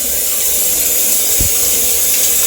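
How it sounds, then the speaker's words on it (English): A huge overhead shower runs in a standard guest room at the Virgin Hotel Las Vegas, giving a loud, steady rushing spray close by, with one brief low thump partway through. "this is a standard guest room with a huge overhead shower"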